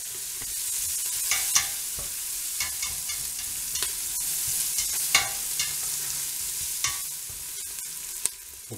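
Strips of onion frying in hot oil give a steady, close hiss of sizzling, punctuated by scattered sharp pops and occasional clicks of stirring, with no one talking.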